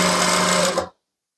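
A sewing machine stitches tulle tutu skirt layers onto ribbon, a loud close whirring motor buzz that runs steadily for under a second and then stops abruptly into silence.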